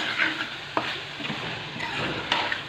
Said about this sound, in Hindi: कचनार को भी हमने पाँच मिनट के लिए मसाले के अंदर अच्छे से फ्राई कर लिया है